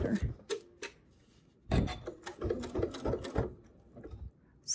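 A sewing machine stitching quilt binding runs in short bursts of rapid, close mechanical chatter, broken by pauses and brief handling sounds.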